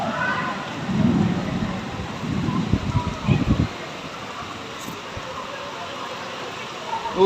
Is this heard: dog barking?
no